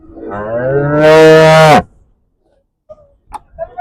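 A loud, close moo from a large young cow at the Khanna livestock market, rising and swelling for nearly two seconds, followed by silence and a few faint knocks.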